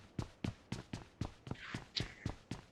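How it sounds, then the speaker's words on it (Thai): Steady, evenly spaced video game footsteps thud along at a brisk walking pace, about ten in all, with a brief faint hiss partway through. "ได้ยินเสียงตีน"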